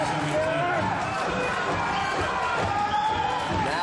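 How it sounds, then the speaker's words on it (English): A crowd cheers at a US Open squash final, a dense, sustained roar of voices filling the whole stretch while a commentator talks over it. "Massive cheers for Huczek."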